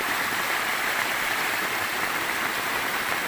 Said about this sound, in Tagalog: yung agos ng tubig ay napakalakas